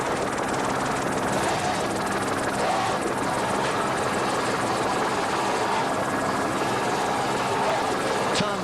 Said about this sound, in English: What great work by Randy Riggs, our chopper pilot.